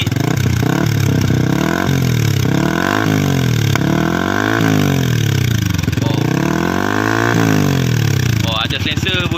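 Yamaha R15 V3 motorcycle with an Akrapovic exhaust and silencer fitted, revving repeatedly in rising and falling sweeps, loud and close, with no talk over it.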